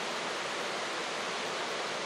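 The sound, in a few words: waterfall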